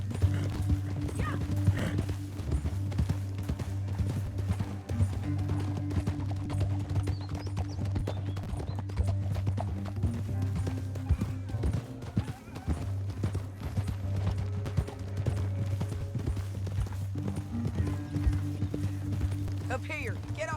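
Horses galloping in Red Dead Redemption 2, a rapid rhythmic clip-clop of hooves on ground with an occasional whinny, running continuously under a low droning music bed and intermittent voices talking.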